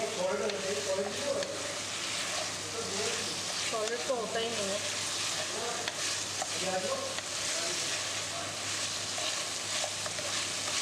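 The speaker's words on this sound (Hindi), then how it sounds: "अच्छा सा फ्राई करना है कि लहसुन अदरक का पेस्ट जो है वो अच्छी खुशबू आ जाए और अच्छा गोल्डन सा हो जाए।" Garlic ginger paste fries in a pan over medium heat while being stirred, a continuous loud sizzle with scraping stir strokes, and someone talks over it.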